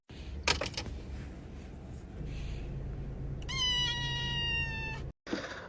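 A black cat lets out a clear, drawn-out meow midway through amid quiet indoor rustling, with a brief bump near the start and a short noise at the end.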